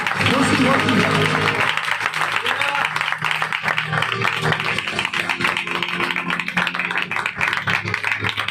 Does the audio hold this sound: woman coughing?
no